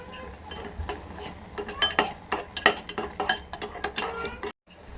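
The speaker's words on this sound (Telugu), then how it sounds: "ఇప్పుడైతే నేనైతే చక్కెర వేస్తున్నాను" Spoon stirring sugar into cooked milk and semolina kesari in a metal pan, close clinking and scraping strokes in an uneven rhythm, then a short pause near the end.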